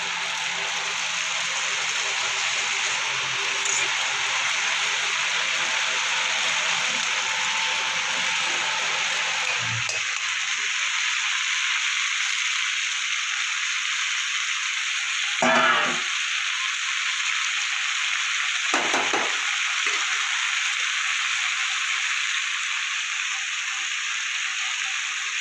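Onion and vegetables fry with potato, tomato and spices for a bhola fish curry, giving a loud continuous hissing sizzle with a couple of brief bursts of stirring toward the end.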